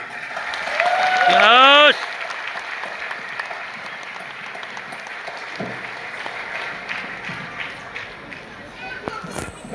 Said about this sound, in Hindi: इसके लिए तालियां